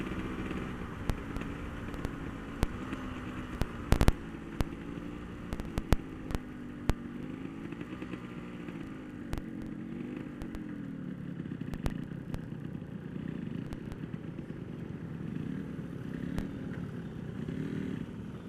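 A Yamaha RX King two-stroke motorcycle fitted with an Altech C20 exhaust runs near idle: a wavering low burble with rhythmic pulsing and scattered sharp clicks and clatters, heard up close without talk.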